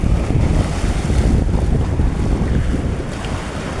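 Big waves surge and slap around a small boat at sea, heard as a steady, loud wash of water under heavy wind buffeting on the microphone.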